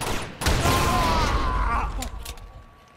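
Gunfire in the video game Uncharted 2, a dense, loud burst of rapid shots with booming low rumble lasting about two seconds, then tailing off, mixed with game sounds.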